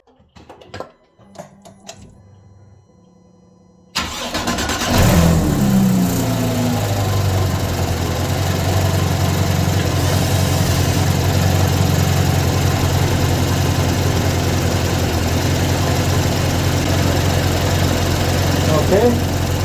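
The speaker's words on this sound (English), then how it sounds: "let's start the car." A Porsche 991.1 GT3 engine with PDK gearbox cranks and catches, then settles into a steady, throaty idle that continues at length, with a voice briefly speaking over it.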